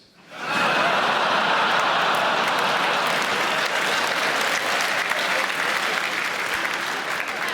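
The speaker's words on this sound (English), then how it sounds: "Some quite beefy claps there, weren't there?" A comedy club audience breaks into sudden, loud, sustained applause with heavy, beefy claps, swelling in quickly and holding steady with a few scattered chuckles mixed in.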